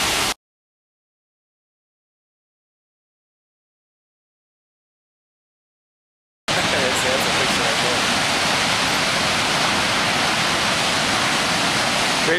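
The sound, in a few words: waterfall in Buffalo, NY area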